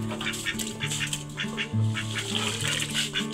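Ducks quacking close by in a farmyard, a quick run of repeated nasal honking calls overlapping one another, loud and continuous for a few seconds with no talking.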